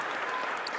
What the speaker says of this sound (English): I think they also deserve a round of applause for speaking and doing a great job